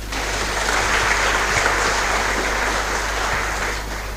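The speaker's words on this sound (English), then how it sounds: "please clap for yourself" Audience at a college of engineering freshmen orientation clapping steadily, a dense wash of hand claps holding at even loudness for about four seconds before easing off near the end.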